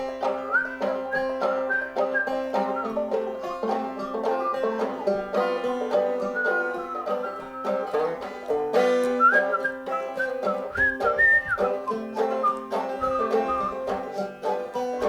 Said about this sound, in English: all this came from just a tune that was whistled